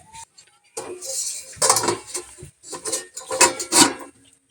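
A metal lid is set on a cooking pot of boiling vegetables in a home kitchen, bringing a run of close clattering and clinking of metal on metal in several bursts.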